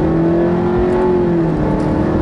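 A 2007 Nissan Sentra SE-R accelerates loudly from close by, its engine note holding a strong steady drone that climbs slightly then eases, heard alone without talk.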